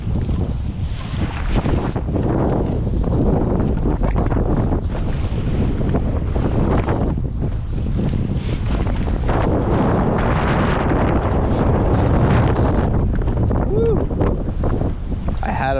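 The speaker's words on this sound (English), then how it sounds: "it's so windy out there" Strong wind buffets the microphone on a lake while fishing for prespawn bass from a boat, a loud steady roar with gusts and water slapping, continuous throughout with no clear talk.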